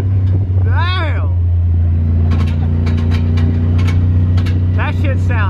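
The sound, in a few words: car engine revving with exhaust flames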